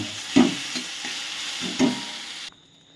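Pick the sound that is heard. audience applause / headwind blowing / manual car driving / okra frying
okra frying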